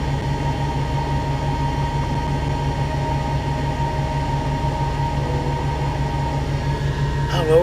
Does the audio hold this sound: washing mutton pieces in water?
no